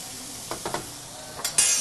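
Fresh fettuccine pasta is stirred in a pot of boiling water, giving a few soft scraping clinks and a brief watery swirl, close and fairly quiet with no voices.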